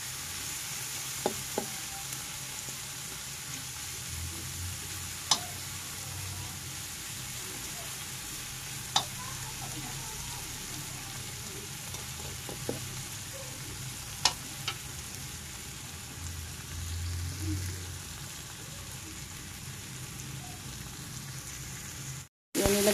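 Chicken pieces frying in a pan as their fat renders, giving a steady close sizzle across the whole stretch with a few sharp clicks and pops, and no talking.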